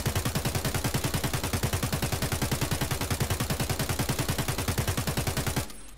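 An AK-74 rifle fires continuously on full auto in Escape from Tarkov. The rapid, evenly spaced shots are loud and close, with no talking, and the burst stops just before the end.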